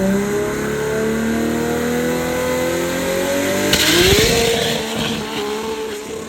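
A brand-new 2000 HP drag race car build in rural Thailand revs its engine loud and close. The pitch climbs steadily, surges sharply near the end, then holds a high, raw roar.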